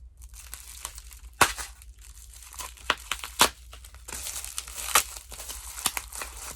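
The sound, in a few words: peeling tape off a package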